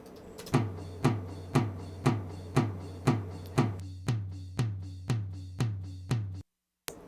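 Low tom hits repeat at an even pace under a dulled, low-sounding cymbal crash, then stop abruptly into silence.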